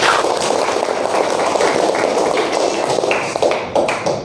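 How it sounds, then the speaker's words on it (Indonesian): Applause from a classroom of schoolchildren at the start of a lesson, dense loud clapping that continues steadily for several seconds and tapers slightly near the end. "Tepuk tangan dulu untuk semuanya."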